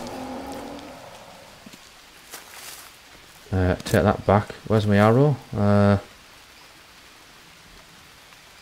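Heavy rain pours down in the jungle survival game Green Hell as a steady, dense hiss throughout, while someone speaks briefly over it in the middle.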